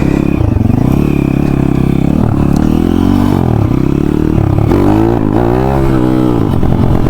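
An enduro dirt bike engine runs close and loud, revving up and down continuously with rising and falling pitch while riding, alone without talk.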